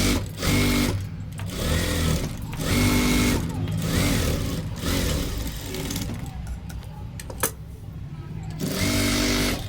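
A sewing machine stitches a size 36, four-panel blouse in quick, loud bursts of rapid needle chatter, stopping and starting several times as the fabric is adjusted, with someone speaking in the pauses.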